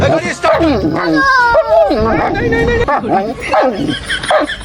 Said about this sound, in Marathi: डॉगीला भाकर टाकली, पण डॉगी बघा कसा करतोय